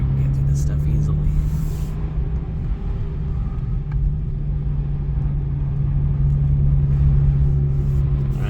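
A 2023 Acura Integra on snow tires driving through city slush, a steady close engine and road rumble with a constant low hum throughout, tyre noise fairly loud and even.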